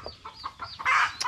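Chickens and hidden chicks making quick, close clucks and chirps in a short burst, ending with a louder, harsher squawk.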